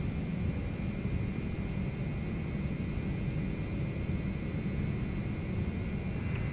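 Boeing 717-200 jet engines spooling at takeoff thrust in a flight simulator, a steady, dense low roar with broadband hiss and a faint high whine, unbroken throughout.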